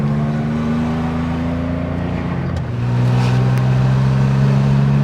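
A 1983 Porsche 911 SC with a 915 factory gearbox drives along, heard from inside the cabin with the windows down. Its engine drones loud and steady, dipping briefly at a gear change before its pitch settles lower and holds.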